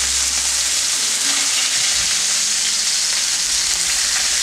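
Chicken roulade searing in a very hot pan, a loud, continuous close sizzle and hiss with no one talking.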